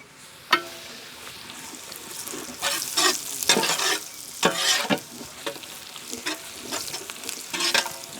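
Onion pieces frying in ghee for a white chicken pulao, with a continuous sizzle broken by repeated scraping stirs of a spoon, some sharp and some soft, close up and irregular.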